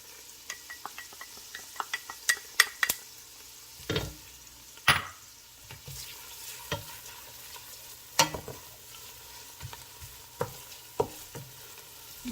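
Butter and olive oil hiss softly in a pan as garlic goes in, with faint sizzling beneath scattered clinks and scrapes of a utensil stirring against the cookware, fairly close.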